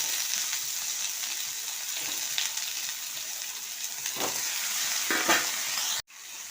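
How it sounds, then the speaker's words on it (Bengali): Bottle gourd fries in a little oil in a wok for lau sukto, making a loud, steady sizzle with brief stirring scrapes before it cuts off abruptly near the end. "আমি অল্প আগে তেল দিয়েছি কড়াইতে, দিয়ে শুধু লাউটাকে তুলে দিলাম।"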